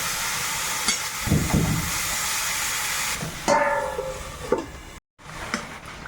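A little water poured into a hot pan of cooking jhinge (ridge gourd) hisses and sizzles steadily as it boils, then the bubbling fades; no talking.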